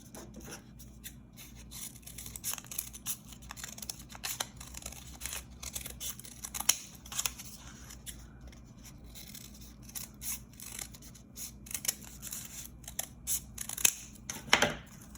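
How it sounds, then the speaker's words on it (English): Scissors snip out a folded paper leaf shape for a snowdrop flower card, a close, quiet series of irregular crisp cuts and paper rustles with no talking. "I'm going to cut it out."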